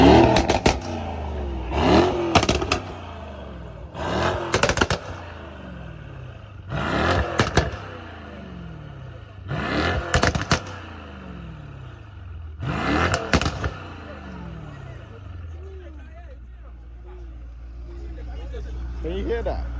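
Tuned Mercedes-Benz E63 S engine revs hard in five loud bursts with crackling pops, close by, separated by brief drops to idle.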